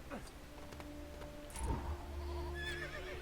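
Horses of the Rohan army in the LEGO The Lord of the Rings video game whinny, with a shrill neigh rising midway over hoof clatter and a low steady game rumble, moderately quiet.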